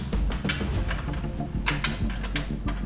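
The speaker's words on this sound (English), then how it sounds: "take your wrenches that you use to remove your link bolts and go ahead" Wrench tightening the lowering link bolts on a 2011-2015 Kawasaki ZX10R or Z1000 fitted with Roaring Toyz links, heard as close metallic ratcheting clicks with two sharp clanks over a steady low shop rumble.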